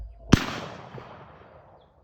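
A single sharp gunshot cracks close by during a game bird hunt, followed by a long fading echo lasting over a second.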